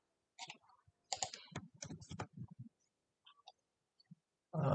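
Code is typed on a computer keyboard for a Redux Toolkit tutorial in short clattering bursts of quick keystrokes, close and crisp, separated by brief pauses and a few isolated taps.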